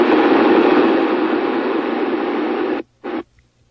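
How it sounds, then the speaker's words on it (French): Radio static hiss from a car's communication radio to a dispatch centre, a steady loud white-noise rush lasting nearly three seconds, then cutting off abruptly before one short final burst. "C'est ce bruit que vous avez entendu dans votre appareil de communication avec la centrale."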